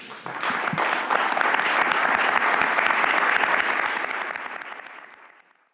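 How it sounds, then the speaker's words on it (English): A conference audience at an event on protection for stateless refugees gives the speakers a full round of applause, swelling quickly, holding dense and steady, then tapering off over the last second or two. "just a round of applause again for all our speakers"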